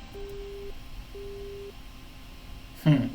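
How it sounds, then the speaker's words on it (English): Telephone busy tone after a call is hung up in a visual novel game, two steady beeps of about half a second each over a faint background, then a short louder noise at the end. "she answers in a cold voice and hangs up the phone."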